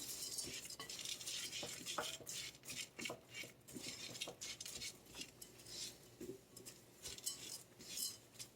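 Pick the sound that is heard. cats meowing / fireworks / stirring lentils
stirring lentils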